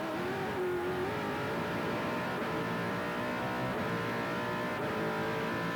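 On-board sound of a brand-new GT1 race car with a 6.7 litre small-block V8 between the chassis rails, racing at Manfield: a loud, continuous engine roar with shifting revs, close to the microphone and alone.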